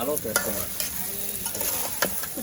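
Goat meat stirred in a pot as it cooks, a close steady sizzle with repeated scraping stirs and soft clacks at an irregular rhythm.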